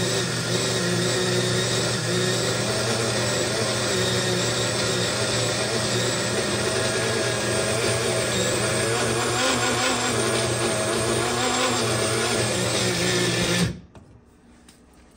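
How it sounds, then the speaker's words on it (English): A blender grinds nuts for creamy pesto in a loud, steady motor whir that runs continuously for many seconds, then abruptly cuts off near the end. "I'm going to go ahead and blend these."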